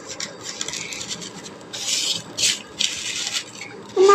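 Mashed potato bharta is being mixed and squeezed by hand, producing repeated rough rubbing and squishing bursts, close and fairly clear, with no speech.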